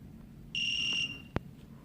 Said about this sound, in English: Got the buzzer responding there.